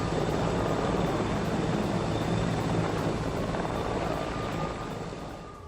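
Helicopter landing on a hospital helipad, a loud, steady broadband rotor and engine roar that holds close and constant before easing slightly toward the end, with no voices.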